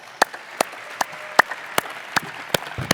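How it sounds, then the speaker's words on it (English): Sparse clapping from an audience at a corporate intern event's main stage, a handful of distinct, evenly spaced claps standing out over a quiet hall rather than a full ovation. "let's take a moment and give a round of applause"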